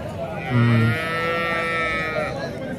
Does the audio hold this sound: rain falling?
no